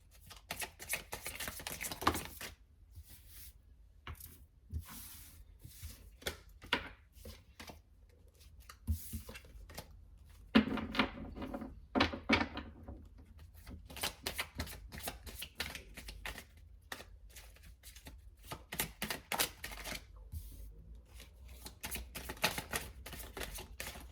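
Osho Zen Tarot cards are shuffled and drawn, making quiet bursts of riffling and sharp papery flicks separated by short pauses, close up and with no talk.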